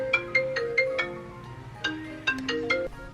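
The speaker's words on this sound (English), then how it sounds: "Oh, my mom is calling me." An incoming call sets off a phone ringtone, a bright melodic pattern of repeated chiming notes played twice, clear and close with no talking.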